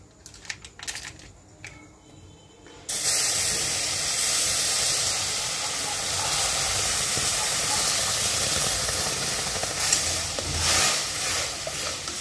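Liquid milk poured onto roasted semolina in a pan for semolina cham cham, setting off a loud, steady steam hiss that starts abruptly after a few seconds of quieter pan noises and carries on without a break.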